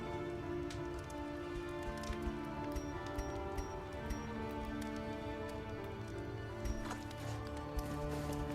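Rain falls over muddy ground in the video game Darkest Dungeon 2, a soft, steady patter of drops beneath a sustained tonal music bed, with occasional brighter splashes.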